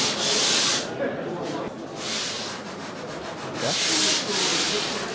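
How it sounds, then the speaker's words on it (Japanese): A surfboard blank is hand-shaped by sanding in a workshop, with long rhythmic rasping strokes rising and falling about every one to two seconds, close and fairly loud, with a brief word spoken over it. "ボード削ってもらってます。"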